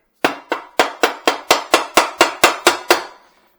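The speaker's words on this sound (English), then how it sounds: "Get your mallet here." Mallet striking a car transmission while changing first gear in situ: twelve sharp, evenly spaced metallic blows, close and loud, each ringing briefly before the next.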